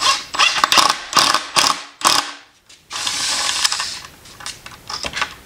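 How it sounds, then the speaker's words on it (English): An impact wrench pulls a threaded insert tight in a DIY benchtop router table: loud, close rattling hammer bursts, several short hits followed by a longer sustained run and a few final taps. "with the impact wrench."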